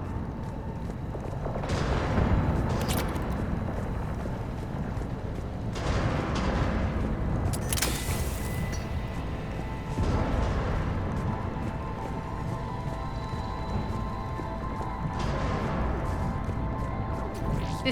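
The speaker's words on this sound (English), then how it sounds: "Those cannons have to be stopped." Heavy cannon and artillery fire during a siege on Omega in the video game Mass Effect, deep rumbling booms and crashing impacts rolling continuously over a dense low roar, with several louder bursts spaced a few seconds apart.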